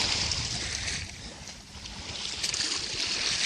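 A bug-out kayak glides across open water, with a steady broadband wash of water and splashing, loud and close throughout and briefly softer near the middle, with no voices.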